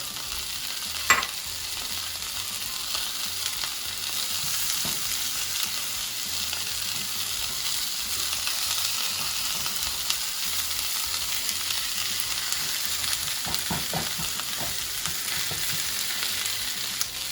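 Onion added to sausage frying in a pan, a steady sizzle and crackle with occasional stirring knocks and scrapes, close and continuous with no talking.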